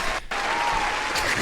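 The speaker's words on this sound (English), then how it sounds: "Let's give him a round of applause." Studio audience applause on a comedy podcast show, a steady dense clatter of clapping that carries through with a brief dip near the start, with no voice over it.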